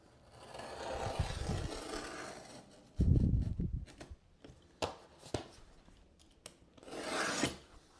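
Wood veneer being cut with a blade drawn along a framing square clamped in place, quiet scraping strokes in short bursts with small clicks and rustles in between.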